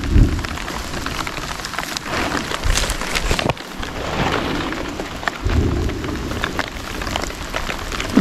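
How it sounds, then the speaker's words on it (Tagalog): Heavy rain pours steadily during a thunderstorm, with deep rolls of thunder rumbling loudly through the downpour in the first and last parts. "Lakas po ng kulog."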